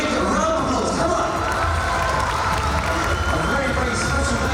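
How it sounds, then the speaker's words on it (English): A large crowd at a lively social event breaks into sustained applause and cheering, a dense, continuous wash of clapping and shouts close around the listener. "let's give them a very, very big round of applause."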